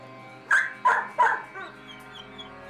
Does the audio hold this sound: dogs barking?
yes